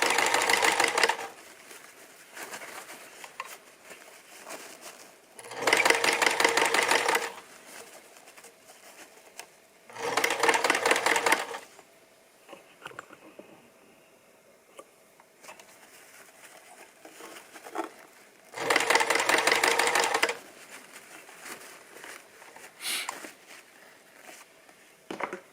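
A sewing machine stitches across a Christmas stocking near its handle in several loud, buzzy runs of a few seconds each, separated by quiet pauses with faint handling noises.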